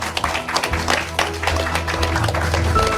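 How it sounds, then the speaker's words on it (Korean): Applause breaks out from the audience at a Democratic Party presidential candidates' 'one team' pact ceremony, moderate clapping of a crowd, fairly soft and short, with a low hum beneath. "박수 보내주시면 고맙겠습니다"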